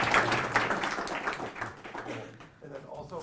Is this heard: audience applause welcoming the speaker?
yes